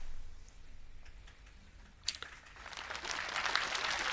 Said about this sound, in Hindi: बस तालियां ज्यादा नहीं बजाओ